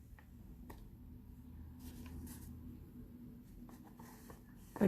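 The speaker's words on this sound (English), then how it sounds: "you're going to fold it in half that short way again" A single sheet of paper being folded and creased into a mini zine, with soft scattered rustles and a few crisp creasing scrapes, close but quiet against a low room hum.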